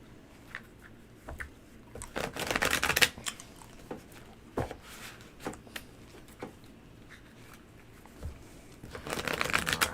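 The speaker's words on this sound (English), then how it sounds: "Go ahead and shuffle." Tarot cards are shuffled during a live reading, giving soft papery riffles and flicks in irregular bursts, quiet and close, with louder fluttering riffles near the start and the end.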